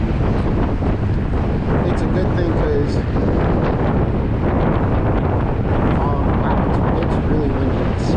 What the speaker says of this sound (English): wow, it's really windy. It's smacking my helmet